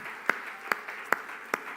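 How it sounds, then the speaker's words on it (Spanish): Four slow, evenly spaced claps ring out sharply against a quiet backdrop during a Sunday Spanish-language church service, sounding like a few hands rather than a full congregation. "Le podemos dar un fuerte aplauso a Jesús."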